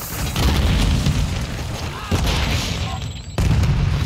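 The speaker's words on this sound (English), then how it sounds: "They're going to catch this grenade, though." A grenade goes off in a first-person shooter with a loud, heavy boom, followed by further bursts and rumbling blasts, all crowded close in a short, intense stretch.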